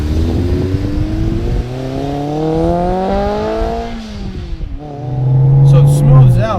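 A 1998 Acura Integra GSR all-motor build with a heavy Stage 2 clutch revs up and settles, its engine note climbing steadily before dropping back to idle, loud and close, with a voice speaking near the end.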